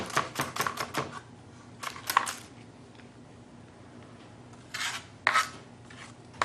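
A knife chops vegetables on a cutting board while preparing a Native American stew, in quick bursts of rapid crisp strokes separated by quiet pauses, close and clear with no talking.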